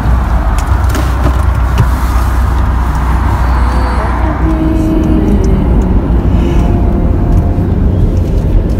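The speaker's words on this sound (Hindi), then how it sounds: "लंदन दी ट्रैफिक 24/7 ट्रैफिक चलती रहती है कभी रुकदा नहीं लंदन" London road traffic makes a constant loud roar of passing engines and tyre noise, with a deep low drone throughout and a vehicle tone shifting in the middle.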